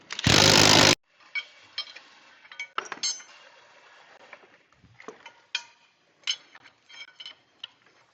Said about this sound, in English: now there's two bolts that will press the volute off of the housing